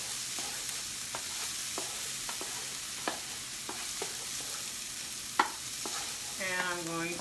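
Combination fried rice with soy sauce is stir-fried in a pan, giving a steady sizzle broken by sharp utensil scrapes and taps at irregular intervals, with a short tonal squeak near the end and no talking.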